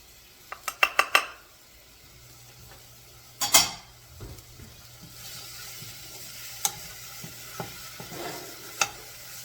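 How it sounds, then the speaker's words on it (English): Garlic, jalapenos and seasoning hit a hot pot for a one-pot meal, with scattered clinks and scrapes of a utensil stirring against the metal over a soft, steady sizzle, close and fairly quiet. "you want to put the garlic, jalapenos, and the seasoning in first and let them bloom"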